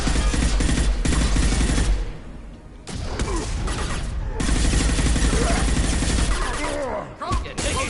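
Heavy automatic gunfire in a Mass Effect 2 firefight, loud and dense bursts of rapid shots with brief pauses, a short lull in the middle and sharp impacts near the end.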